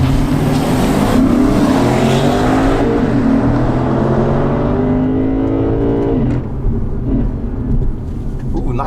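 A 2019 Lexus RC F launches hard with traction control off, its engine roaring loud and close as it climbs through the revs, then drops abruptly on a gear change and pulls again.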